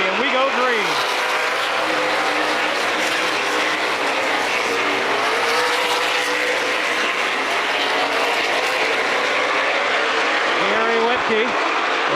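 Race cars roar around a short oval track after a green-flag restart, a dense, continuous engine drone with rising and falling pitch as cars pass, under a commentator's steady voice.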